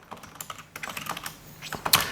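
Quick, uneven clicking of keys on a computer keyboard as text is typed, close and crisp, in short bursts over about two seconds with no talking.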